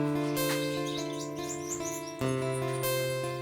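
Yellow Gouldian finches in an aviary chirp and tweet repeatedly in bright, overlapping calls over a steady background hum, with no talking.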